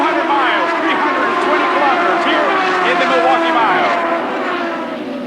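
IndyCar race cars roar off at the start of a 200-mile race after a rolling start, a loud dense blend of high-revving engines sweeping past. A commentator's voice runs over the engine noise.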